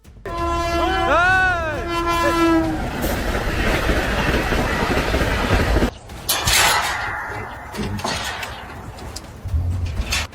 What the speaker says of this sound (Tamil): மணிக்கு நூறு கிலோமீட்டர் வேகத்தில் வரும் ரயில்கள் எளிதில் உங்களை வேகமா கடந்து செல்லும்